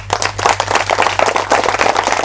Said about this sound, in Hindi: हम एक बार परमेश्वर को जोर से ताली बजाकर महिमा देंगे